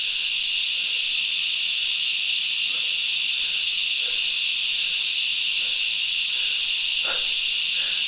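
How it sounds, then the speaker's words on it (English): Crickets at a mountain campsite at night make a loud, dense, steady chirring drone that fills the air without a break, close and overwhelming, with faint scattered sounds beneath it. "That's the loudest cricket cries I've ever heard, ever in my life."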